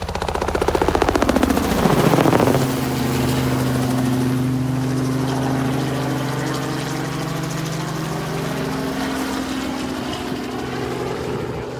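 A crop-duster helicopter passes low overhead above a rural property, its rotor chopping loud and close at first, then settling into a steady droning hum as it moves off, with no talk.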